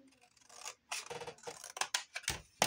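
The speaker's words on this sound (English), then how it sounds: "Oops, sewing scissors." Sewing scissors snip paper while making a handmade card, a close series of crisp, rasping cuts in irregular bursts with short pauses between.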